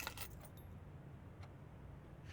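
Car keys in the video game Blue Prince jingle with a short, bright metallic rattle as they are picked up, followed by a couple of faint clinks over a quiet low background hum.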